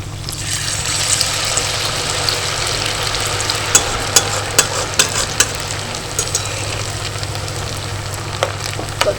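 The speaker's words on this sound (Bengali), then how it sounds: "এগুলোকে একটু লালচে করে ভেজে নেব" Semolina and raw potato snacks deep frying in hot oil, a steady loud sizzle and bubbling throughout with a few sharp clinks of a utensil against the pan partway through.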